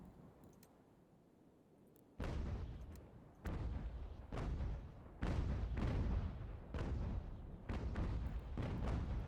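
Ship cannons firing in a naval battle in Ultimate General: American Revolution, a run of five or six heavy booming blasts in quick succession, each rolling into the next, loud and close with no voices.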